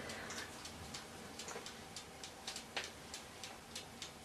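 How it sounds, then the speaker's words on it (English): Steady, soft mechanical ticking from a kitchen timer on a mini oven repeats at an even pace, faint against a constant low hiss. "you may hear some ticking, that's just a timer"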